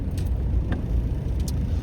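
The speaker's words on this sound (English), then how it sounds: "a little bit of traffic out here" Road traffic around a car, a steady low rumble of engines and tyres with faint brief higher noises from passing vehicles, continuous and moderately loud with no talk.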